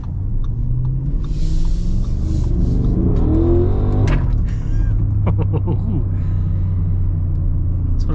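A 2025 Audi SQ8 V8 revs and accelerates on the road, a loud, deep rumble that climbs in pitch through the gears and then settles to a steady drone, with people talking inside the car.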